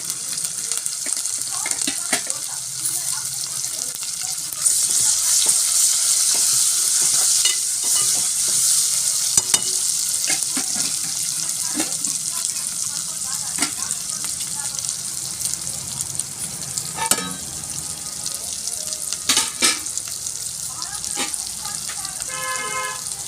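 Tomatoes with turmeric fry in a pan for a country-chicken dish, giving a steady broadband sizzle with intermittent scraping stirs and a few clinks, while a voice talks now and then over the cooking.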